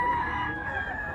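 A yellow-legged bullstag gamecock crows in one brief, sustained, close call.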